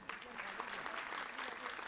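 Audience applause at an Arangetram dance debut, a steady wash of many hands clapping at moderate distance, continuous throughout with no talk over it.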